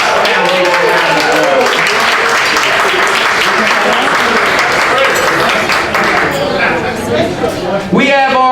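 Sustained loud round of applause from an audience at a charity gala ball at a golf and country club, dense clapping filling the whole stretch with crowd noise and cheering, thinning slightly near the end as a voice begins.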